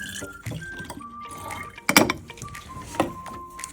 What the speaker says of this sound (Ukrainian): Тепер у колбу наливаємо перекис